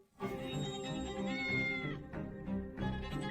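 A cat named Bubble meows in a long, drawn-out wail, followed by two shorter meows, close and fairly loud with no talking over it.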